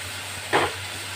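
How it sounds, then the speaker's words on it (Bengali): Spice paste for a Bengali pumpkin ghonto hits hot oil in a pan, giving a short, close burst of sizzling and hissing that swells quickly and fades within a moment. "এবারে পুরো মশলাটাকে একটু আমি কষিয়ে নেব"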